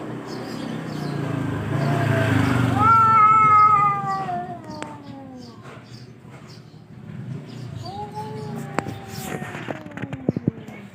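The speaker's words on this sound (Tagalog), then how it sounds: "yung dalawang pusa oh" Two cats facing off, one giving loud drawn-out yowls and caterwauls that rise and fall, then quieter growling meows, with people talking and laughing nearby and a few sharp clicks at the end.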